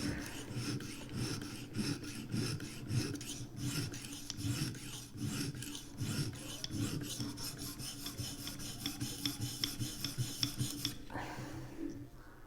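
A knife is drawn in repeated rasping strokes across the stone of a Vipersharp sharpener, raising a burr: a close, scratchy rhythm of gritty rubs, steady and alone, stopping near the end.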